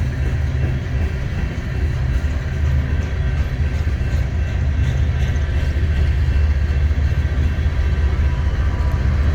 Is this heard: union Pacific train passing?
yes